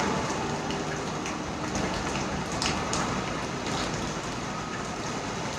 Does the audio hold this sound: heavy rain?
yes